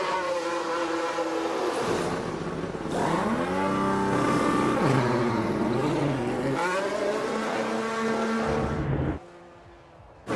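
Formula 1 race cars in the racing game F1 22 at the Dutch Grand Prix, loud high-pitched engines screaming and shifting up and down as several cars roar past in quick succession, then dropping away abruptly near the end.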